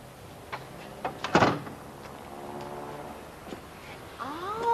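A household door opens and closes indoors with a clunk and rattle, then a brief creak; no one speaks over it.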